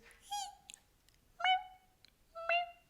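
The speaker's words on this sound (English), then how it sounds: "They make sounds like this." Three distinct cat meows, close and clear, each a short rising then falling cry with roughly a second of quiet between them.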